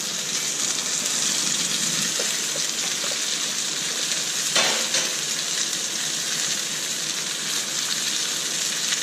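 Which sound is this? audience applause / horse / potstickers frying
potstickers frying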